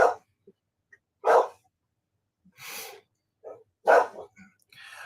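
A dog giving several short, separate barks and huffs with silent gaps between them, fairly close and crisp, alternating sharper bark bursts with breathier snorts.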